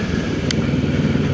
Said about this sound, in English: So today this is going to be the last ride of the Kawasaki Ninja 650.